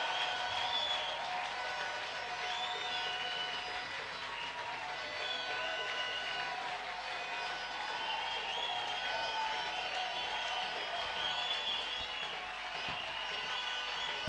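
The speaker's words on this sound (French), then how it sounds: "applaudissez très fort" A church congregation at a resurrection-themed service applauds loudly, a dense, steady roar of clapping that holds at an even level for the whole stretch.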